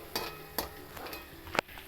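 Onions frying in a pan as they are stirred, a soft sizzle running underneath a few sharp scrapes and knocks of the spoon against the pan, with one louder clatter near the end.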